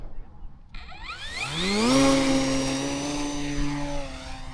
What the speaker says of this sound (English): Up she goes.